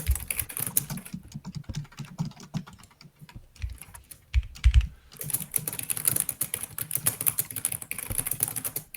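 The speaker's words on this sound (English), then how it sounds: "It's Cyphase, typing his little Cyphase heart out." Rapid computer keyboard typing at a desk, a dense uneven clatter of keystrokes with a brief lull midway, close and fairly quiet, no talking.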